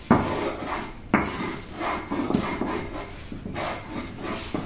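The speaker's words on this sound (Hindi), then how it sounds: "बहुत बारीकी से पीसना पड़ता है इसको" Bhang being ground very finely by hand on a stone, giving repeated rough scraping and rubbing strokes with a few sharper knocks, close and fairly loud throughout.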